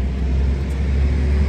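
A garbage truck rumbles past outside, a heavy, steady low-pitched engine drone that stays loud throughout with no voices.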